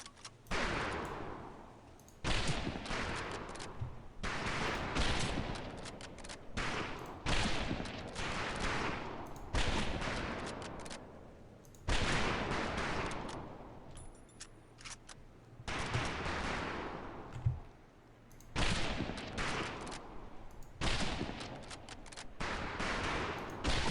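Volleys of rifle fire ring out on a firing range in the Medal of Honor Pacific Assault video game, heard as repeated loud bursts of shots separated by short gaps and continuing through the whole stretch.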